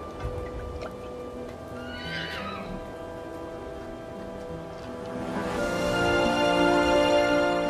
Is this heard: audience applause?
no